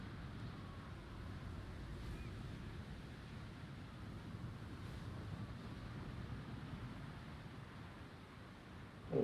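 Wind blows steadily outdoors in the video game Jusant, a continuous broad rushing roar at moderate level with slight swells and no talking.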